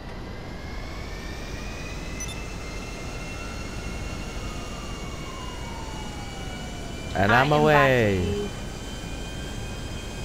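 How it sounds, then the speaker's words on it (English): Private jet engine in Grand Theft Auto V, a steady broad roar with a rising whine throughout, as one voice speaks briefly near the end over the constant engine noise. "I'm in a private jet right now."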